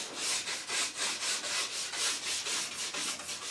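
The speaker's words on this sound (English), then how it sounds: "So you want to brush it lengthwise with the ski." A brush sweeps lengthwise along a waxed ski base in quick, even, close strokes, roughly three or four per second, making a steady rhythmic scrubbing sound with no talk.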